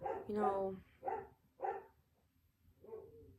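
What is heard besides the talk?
dog barking downstairs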